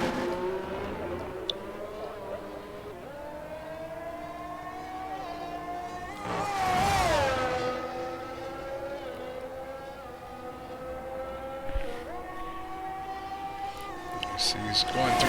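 A race car sets a hot lap on the Singapore street circuit in a racing game, its engine whining through rising and falling gear changes, loud and close, with a sharp downshift and revving midway while a commentator talks over it.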